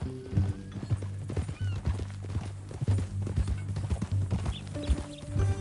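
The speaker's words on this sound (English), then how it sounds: "That a new horse?" Horse with clear, close hoof clip-clops in an uneven walking rhythm, broken by loud neighs and whinnies, with faint background hum.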